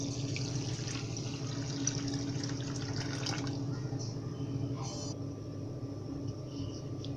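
Measured water is poured into a wide pan to make syrup for instant-mix gulab jamun, giving a steady low splashing and trickling that runs continuously before tapering off near the end.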